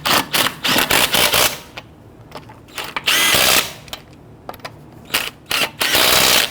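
An impact gun snugs down the wheel lug nuts on a 2011-2017 Nissan Quest, firing in loud close bursts of rapid rattling hammering. Short quiet gaps separate the bursts, and a few brief extra bursts come between them.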